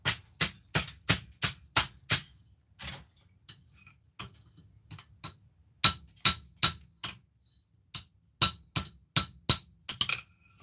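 Hammer blows knock scale off a piece of metal in quick bursts of sharp, clinking strikes, several fast runs broken by pauses and lighter taps, close by with no talk.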